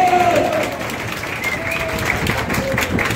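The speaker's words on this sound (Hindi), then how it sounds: "इनके लिए जोरदार तरह से ताली होनी चाहिए" Hall audience at a solar, electric vehicle and e-commerce awareness seminar gives a steady round of dense applause, loud and continuous for a few seconds, with a voice faintly over it.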